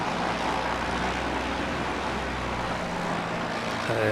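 A Jetstar airliner taking off at Christchurch Airport, bound for Auckland, produces a broad, steady jet roar with a low rumble that holds throughout and swells slightly near the end.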